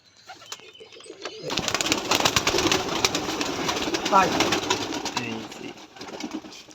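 Pigeons at a farm selling hand-tumbler pigeons coo in a dense, continuous chorus that swells after a quieter start, with wing flutters and people talking underneath.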